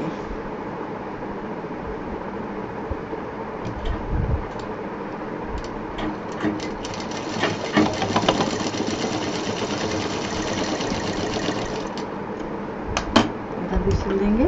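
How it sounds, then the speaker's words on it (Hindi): Sewing machine stitching red fabric pieces together for a homemade fruit cover, a steady close mechanical whir with rapid needle ticking running throughout, with a few louder clunks. "इसको हम यहाँ साइड से सिल देंगे।"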